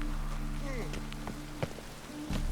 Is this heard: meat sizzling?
no